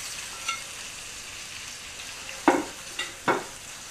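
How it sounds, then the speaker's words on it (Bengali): Pungus fish kofta pieces are stirred through a thick onion and spice masala in a hot pan. Soft sizzling runs underneath, and three or four distinct spoon scrapes land close, mostly in the second half. "প্রতিটা কোফতার গায়ে ভালো করে যেন পেঁয়াজ আর মশলাটা লেগে যায় সেজন্য নাড়িয়ে ভালো করে মাখাতে হবে"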